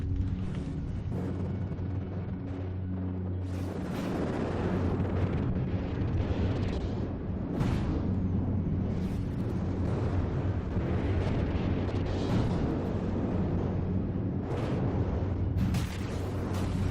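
Missile and flak explosions rumble on without a break in the vehicle combat game From the Depths, loud and boomy, with bursts rising around 4, 8 and 16 seconds over a steady low roar.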